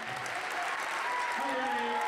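An audience at a mixed team foil fencing event applauds in a steady, dense wash of clapping, with a voice speaking over it.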